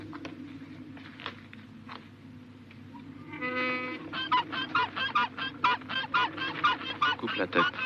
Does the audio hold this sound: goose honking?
yes